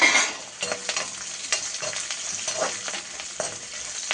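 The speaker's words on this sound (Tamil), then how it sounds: "இந்த வரமிளகா சும்மா ஒரு 4 கிண்டி செய்யுங்க." Dried red chillies frying in a pan for a pirandai chutney, a close, continuous sizzle broken by repeated scraping stirs of a spoon at an uneven rhythm.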